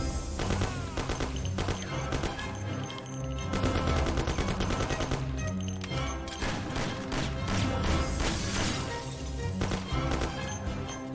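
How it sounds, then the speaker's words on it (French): Grenades burst and gunfire crackles in the video game Mafia, with dense, loud, continuous shooting and explosions layered over a game soundtrack. "Là, les grenades vont tomber."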